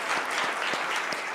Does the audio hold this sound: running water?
no